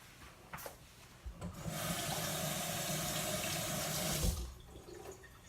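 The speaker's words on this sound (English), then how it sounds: "I'm gonna wash it off and eat the rest." Tap water running over a dropped mango pit as it is rinsed under a kitchen faucet, a steady splashing stream for a few seconds after some handling clatter, then shut off.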